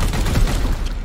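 Burst of gunfire in the turn-based game Warhammer 40,000: Chaos Gate Daemonhunters, a loud, dense rattle of rapid shots lasting about a second.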